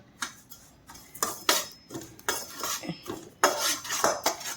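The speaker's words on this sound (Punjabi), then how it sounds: "ਵਿੱਚ ਹੀ ਕਾਲੇ ਤਿਲ ਪਾ ਲੈਣੇ ਆ ਇਹਨੂੰ ਆਪਾਂ ਡਰਾਈ ਰੋਸਟ ਕਰ ਲੈਣਾ ਅੱਛੀ ਤਰ੍ਹਾਂ" Black sesame seeds dry roasting in a wok, stirred with a metal utensil that makes irregular clinks and scrapes against the pan, close and fairly loud.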